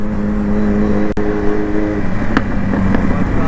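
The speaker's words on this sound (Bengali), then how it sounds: "back fire guys" A superbike engine drones loudly up close, then its exhaust fires off a sharp backfire crack, followed by a couple of fainter pops as the engine keeps running.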